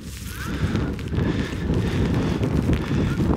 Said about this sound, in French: je pense qu'on doit entendre un petit peu le vent quand je parle